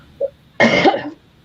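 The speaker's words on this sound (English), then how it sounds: "so when I cough, then I probably did deafen everybody." A single sharp cough right into a close microphone, loud and brief after a small throat sound, in an otherwise quiet room.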